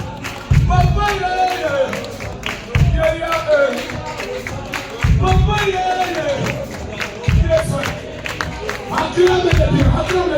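A church congregation cheers and acclaims in rhythmic bursts of crowd noise with heavy thumps, shouts and clapping, loud and near, over a voice speaking.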